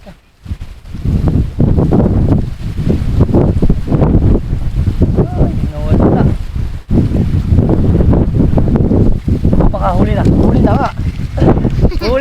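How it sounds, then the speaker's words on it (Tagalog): Strong wind gusting across a microphone beside a tilapia fishing pond in Barangay Cupang, Muntinlupa, a loud, buffeting rumble that comes in bursts and drops out briefly, with people talking over it throughout. "Problema lang, masyadong malakas yung hangin."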